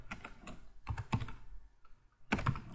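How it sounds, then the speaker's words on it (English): Typing on a laptop or computer keyboard, several light clicking keystrokes in short irregular clusters with brief pauses, close and quiet. "then you have to write FIFA Live."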